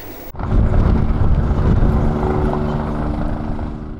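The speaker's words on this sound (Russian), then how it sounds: "Спасательный вертолет эвакуирует пострадавших из мест затопления." Rescue helicopter flying low during a flood evacuation exercise in Karaganda region, a loud steady rotor and engine roar that starts abruptly and holds close throughout, with no talk.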